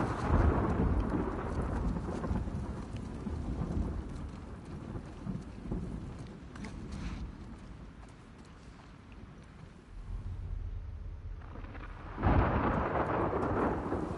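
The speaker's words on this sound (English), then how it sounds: "Fucking storm, brilliant." Thunderstorm in the video game The Last of Us: a steady wash of heavy rain runs throughout, with rolling thunder rumbles swelling near the start and again loudly toward the end, and no voices.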